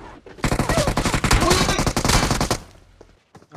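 Dense burst of rapid automatic gunfire from a shooting video game, loud and sustained for about two seconds before cutting off to quieter scattered sounds.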